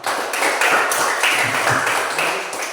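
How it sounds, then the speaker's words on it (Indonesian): A classroom of young pupils applauds together in a lesson, dense steady clapping filling the whole moment at close range with no talk over it. "Ya baik, kita berikan tepuk tangan."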